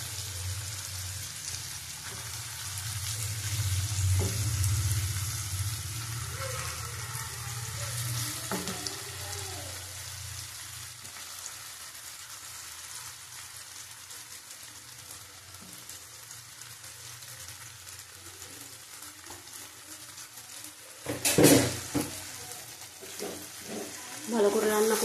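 Giant taro with prawns fries in a pan with a soft, steady sizzle and occasional stirring, heard faintly at a distance, with a brief louder burst near the end.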